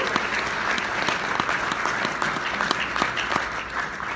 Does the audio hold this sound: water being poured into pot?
no